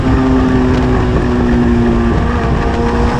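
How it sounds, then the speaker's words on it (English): Hayabusa-powered Westfield racing on a track day, its engine loud and close with a steady high-revving drone and a slight drop in pitch as the throttle eases. "Very on-off throttle on this car"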